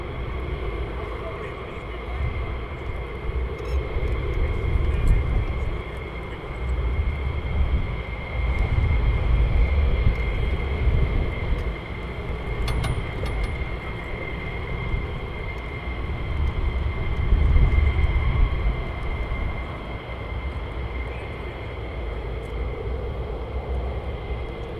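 Fighter jets taxi and prepare to depart at RAF Lakenheath, a heavy, continuous engine roar and whine heard at a distance, swelling and easing over time, with people talking over it.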